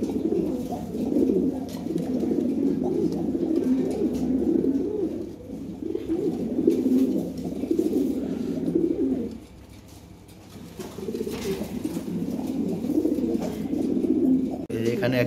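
Red Lahore pigeons coo in low, steady, rolling calls that run almost continuously. There is a short pause near the middle before the cooing resumes close by.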